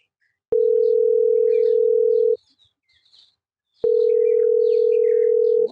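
A telephone dial tone heard while a call is being placed: two loud, steady single-pitch tones of about two seconds each, separated by a short quiet gap, with nobody speaking.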